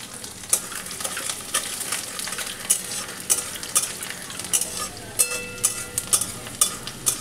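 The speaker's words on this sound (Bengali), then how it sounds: "রসুনটা ভেজে নিয়ে আমি পেঁয়াজটাকে দিয়ে দেব" Chopped garlic sizzling in oil in a pan with steady frying hiss and repeated scrapes and clinks of a stirring utensil, close and moderately loud.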